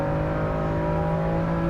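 Car engine in the racing game Assetto Corsa EVO heard from inside the cockpit, a steady droning hum with strong harmonic tones held at even revs, continuous and without talk.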